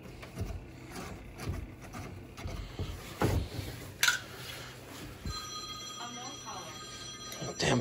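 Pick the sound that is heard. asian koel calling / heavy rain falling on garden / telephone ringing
telephone ringing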